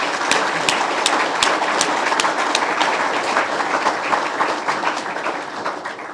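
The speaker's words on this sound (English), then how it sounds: "Let's have a round of applause for the people who've organised this for us" Sustained applause from an audience at an electrification organisation's welcome event, dense steady clapping throughout with no talk, fairly close and full.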